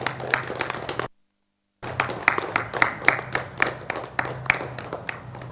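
A crowd claps in steady, dense rhythm at a Sri Chakra Pratishta Hindu religious ceremony, with the applause cutting out briefly before resuming strongly and continuing without talk.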